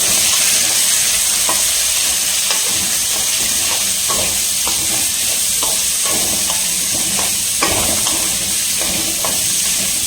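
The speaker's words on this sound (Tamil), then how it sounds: "போட்டு இதெல்லாம் மிக்ஸ் பண்ணிக்கலாம்" Garlic frying in hot oil in a pan for a garlic kuzhambu: a loud, steady sizzle and hiss throughout, with a soft rhythmic scrape of stirring every second or so, close by.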